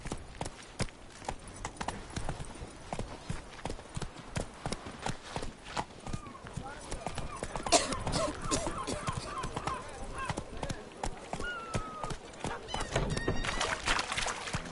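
A horse gallops in The Witcher 3 with a fast, continuous clip-clop of hooves throughout. Occasional neighs and snorts sound over the hoofbeats, along with faint game ambience.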